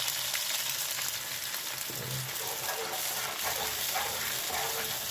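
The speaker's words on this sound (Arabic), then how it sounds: "حطيت الزيت السخون كالعاده، درت الثوم في الكحل والطوماطيش" Garlic and tomatoes frying in hot oil give a steady, dense sizzle with soft crackles throughout, fairly quiet and continuous with no break.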